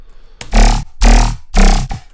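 A layered synth rack in an electronic dance music session gives three loud, throaty notes with a croaking, vowel-like character, each about a third of a second long and separated by short gaps.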